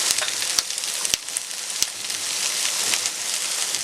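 Sliced onions sauté in a pan with pork for a Kerala pork curry, giving a steady bright sizzle with occasional sharp crackles and pops, close and continuous with no talking.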